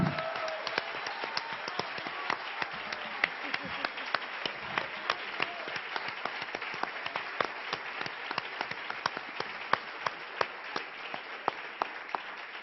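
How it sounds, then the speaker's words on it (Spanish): An academic lecture audience applauds a guest speaker from Uruguay, continuous crowd clapping with distinct individual claps popping out, steady throughout with faint voices underneath. "Un gran aplauso para nuestro invitado."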